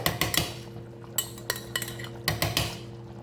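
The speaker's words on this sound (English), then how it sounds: "just stir it in" Oxtails are stirred in a metal pot over medium-low heat with a big spoon, giving a close run of clinks and scrapes against the pot sides, with a low hum underneath.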